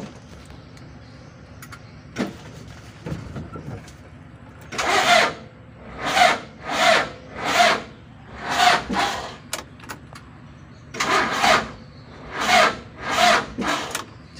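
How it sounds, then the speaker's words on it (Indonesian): A car with a starting fault has its starter motor tested: about eight short, rough mechanical bursts repeat at a fairly even pace, each lasting under a second, against a quiet background with a few faint knocks before them. "Sekarang kita coba tes starter."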